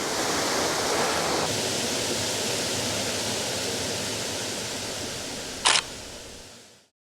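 Steady broadband roar of a waterfall filmed up close on a landscape photography outing, continuous and loud for about six seconds, with a sharp camera shutter click near the end before it cuts off.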